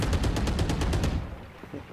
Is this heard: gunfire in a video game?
yes